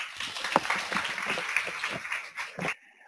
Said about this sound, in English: Round of applause for Wally.